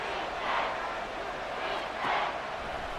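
Stadium crowd in a Madden 24 football video game, a steady broad roar that swells twice in loud waves during a third-and-goal play, with no talking over it.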